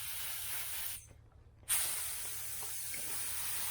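Black paint hisses steadily from a cheap Harbor Freight spray gun while a 1976 El Camino is being refinished; the close, continuous spray stops for under a second, then resumes at full strength.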